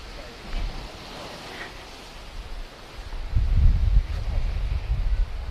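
A wave hits the shore at the southernmost point in Key West, just after Hurricane Ian. Surf and wind rumble gently, then a heavier wash surges in close around the midpoint and carries on to the end.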